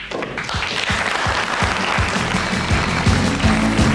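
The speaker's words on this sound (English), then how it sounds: "Large Filipino contingent here, including people from the embassy, cheering on the maestro." Crowd at a snooker match between Efren "Bata" Reyes and Steve Davis, including a large Filipino contingent, applauding steadily with cheers and a few sharp claps, sustained and fairly loud throughout.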